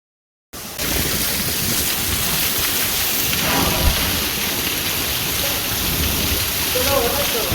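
Heavy winter rain pours steadily at Gorakh Hill Station, a dense, close roar of drops with a low thunder rumble beneath, starting abruptly after a brief silence.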